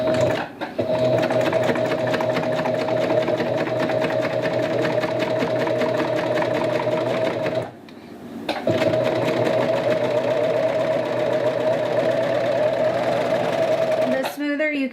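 Sewing machine stitching the pleats of a winter hat, a loud steady whir running nearly continuously, with one short pause in the middle and a clatter at the very end.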